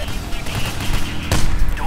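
Continuous gunfire in the heist shooter Payday The Heist, dense and loud throughout with a sharp shot standing out near the end.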